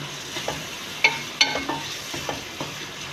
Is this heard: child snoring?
no